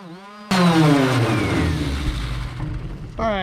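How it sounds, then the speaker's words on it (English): A dual-action sander with 80 grit paper sands a panel on a 1986 Kenworth W900B truck under restoration, a loud steady whirring grind that starts abruptly and runs close up, with a voice briefly at the end. "We'll just sand this real quick with the DA"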